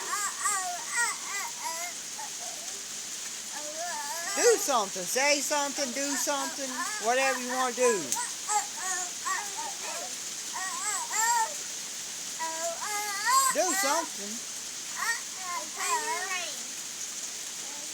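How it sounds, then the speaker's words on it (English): Steady rain patters down outdoors as a continuous hiss, with a child and adults chattering and calling over it throughout. "if y'all hear noise, that mean the rain in the background"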